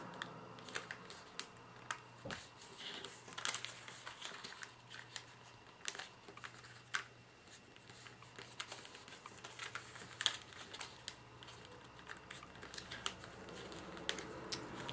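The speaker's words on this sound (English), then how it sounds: "We're folding up towards the center on all four sides." Paper is folded for an origami fortune teller (cootie catcher), giving soft crinkles, creases and sharp taps scattered steadily throughout, close and fairly quiet, with no talk.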